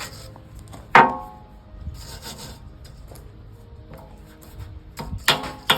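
Wire brush scrubbing mud and dirt from the tooth shanks of a Cat backhoe bucket, steady close rasping strokes with a few sharper scrapes and knocks of metal, no talking.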